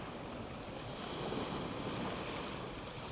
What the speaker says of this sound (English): Very small waves coming in.